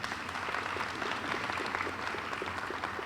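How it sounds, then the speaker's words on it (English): Audience at a Dean's List reception gives a round of applause, a dense, even patter of many hands clapping at moderate volume for a few seconds. "Give them a round of applause."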